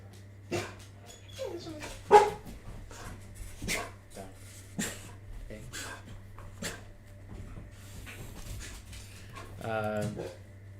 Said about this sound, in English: my dog is still going crazy